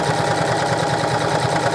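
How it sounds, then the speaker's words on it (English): A sewing machine running a quick stitch near the bottom of an apron, a steady, close, continuous whirring buzz with a fast mechanical pulse. "I am just going to do a quick stitch close to the bottom"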